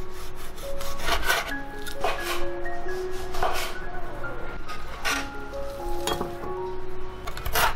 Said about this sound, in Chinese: 牛肉逆着纹路把它切成薄片。